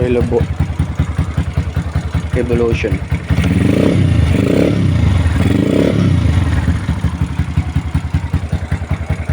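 A Lifan LF110 motorcycle engine fitted with a Showar Racing CDI idles with a fast, loud putter, then revs up in several strong surges before settling back, close and dominant.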